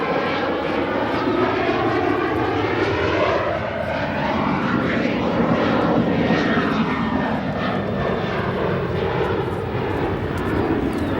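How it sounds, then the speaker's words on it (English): An Atlas Air Boeing 747 departing O'Hare, a loud, sustained jet roar with sweeping tonal whines rising and falling as it passes close by. "Nice little double shot of our United and our Atlas Air. United arriving, Atlas Air departing."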